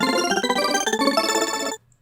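Scratch library sound effect named win: a bright, harmonic chiming flourish of layered tones with quick rhythmic sparkle, loud and close, lasting under two seconds before cutting off to silence.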